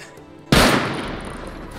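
Automated turrets in the video game Rust open fire with a sudden loud burst, then a rapid stream of gunshots that continues steadily to the end.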